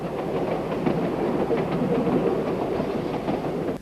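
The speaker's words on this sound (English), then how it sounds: "Take the train any day." A narrow-gauge Ffestiniog Railway train rumbles along the track with steady clickety-clack and wheel noise, heard from on board, even and continuous throughout.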